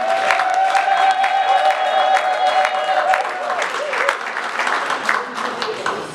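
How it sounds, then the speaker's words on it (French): A crowd at an international conference of Katumbi supporters in Congo applauds for President Moïse, with dense, continuous clapping and some cheering, loud and close, while a voice carries on faintly underneath. "Applaudissons pour le président Moïse."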